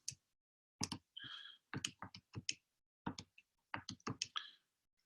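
Calculator keys pressed by hand in a quiet room: a run of a dozen or so crisp, close plastic clicks in uneven bursts, with short pauses between groups.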